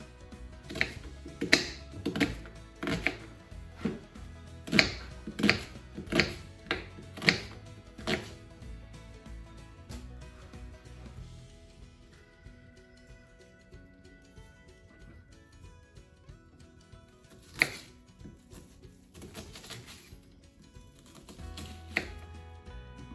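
A knife chops an onion on a cutting board, a quick run of crisp, close taps at first, then a pause and a few more scattered cuts later.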